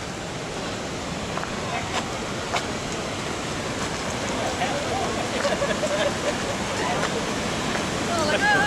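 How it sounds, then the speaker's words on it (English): River rapids and a waterfall at Great Falls on the C&O Canal in Maryland, a steady, rushing roar of churning water heard close by throughout, with faint voices in the background. "It's a freaky walk to the falls over river rapids."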